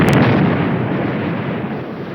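Dense D-Day battle din of gunfire and explosions, a continuous loud roar with a sharp burst at the start and no talking.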